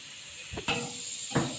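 Pressure cooker on low gas after several whistles gives a steady, close hiss of escaping steam, with a couple of brief louder puffs over the constant rush.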